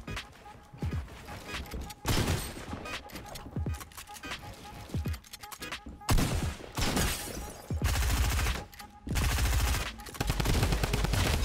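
A golden drum gun fires in Fortnite as bursts of rapid automatic gunfire, loud and dense, broken by short pauses, with game sounds and a voice speaking beneath the shots.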